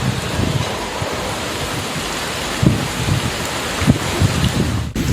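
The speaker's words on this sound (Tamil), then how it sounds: "புதுக்கோட்டை உள்ளிட்ட மாவட்டங்களில் பெய்த கனமழையால் தாழ்வான பகுதிகளில் தண்ணீர் தேங்கியது" Heavy monsoon-style rain pours down steadily in Tamil Nadu, a dense, even hiss with occasional louder splashes and no voices.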